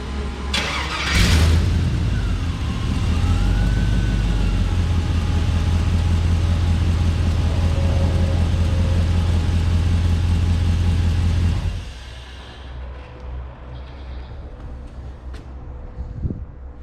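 An LS-swapped muscle car engine cranks, catches and runs with a steady loud idle for about ten seconds, then cuts off abruptly, leaving a quieter fading tail.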